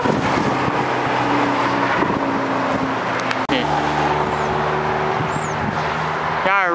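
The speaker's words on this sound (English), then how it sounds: "Hey, UPS truck." A UPS truck drives past on a road, its engine and tire noise rising and fading in steady traffic rumble, with a brief sharp knock midway and a voice talking over it.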